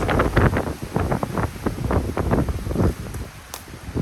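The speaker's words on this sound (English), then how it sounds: "You can see the wind gusts coming off of this." Strong hurricane Ian wind gusts buffet a microphone in Orlando, Florida, producing loud, irregular bursts of rushing, rumbling noise that surge and fade repeatedly before easing toward the end.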